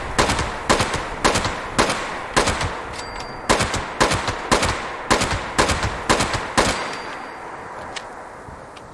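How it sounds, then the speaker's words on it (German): Loud gunfire from a weapon in Fallout 76, a steady run of about a dozen sharp, evenly spaced shots over several seconds, up close with no talking. "Die Waffe ist viel zu laut."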